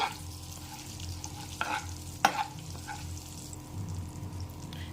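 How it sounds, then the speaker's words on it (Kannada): Cloves, bay leaf, cumin and cinnamon frying in a pan as a base for paneer mutter masala and jeera rice: a steady soft sizzle under close stirring, with a couple of sharper spoon scrapes against the pan. "ಮತ್ತು ಲವಂಗ, ಪಲಾವ್ ಎಲೆ, ಜೀರಿಗೆ ಇದೆಲ್ಲನೂ ಸ್ವಲ್ಪ ಹುರ್ಕೋಬೇಕಾಗತ್ತೆ."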